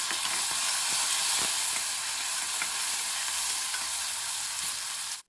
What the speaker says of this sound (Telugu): క్యారెట్ ముక్కలు వేసేసుకొని ఒక్కసారి ఈ విధంగా కలిపి అలాగే గ్రీన్ పీస్ కూడా వేసేసుకుందాము